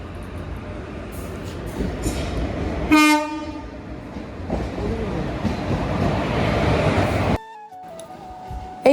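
A Teesta train rumbles steadily nearby, with a loud horn blast partway through, then the noise drops suddenly near the end.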